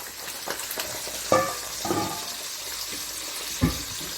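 Okra (bhindi) dropped into hot oil in a pan, a steady low sizzle with a few sharper spits and clatters of stirring, close and moderately loud.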